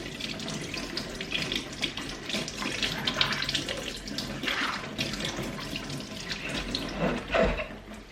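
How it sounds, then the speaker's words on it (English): Cold tap water running as a washing machine filter is rinsed under it, a continuous splashing flow with shifting gurgles as the filter moves through the stream, fairly close. "I'm just going to rinse it all off with cold water."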